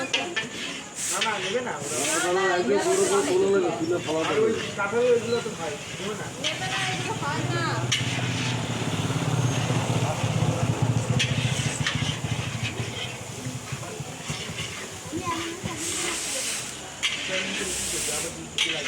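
Onions fry in a pan with a steady, continuous sizzling hiss that runs under people chatting nearby throughout.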